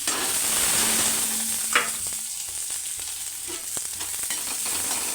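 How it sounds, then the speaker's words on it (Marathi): Onion, curry leaves and crushed garlic frying in a pan for a potato dish, a loud close hiss of sizzling oil with a few spoon scrapes and clicks as they are stirred, no voices. "आता हे मस्त फ्राय होऊ देते व्यवस्थित"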